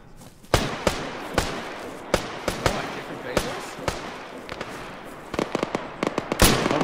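Gunfire in the Arma 3 military shooter, with single sharp shots cracking out at irregular intervals and a quicker burst near the end, some loud and close, others softer, while players talk over the comms.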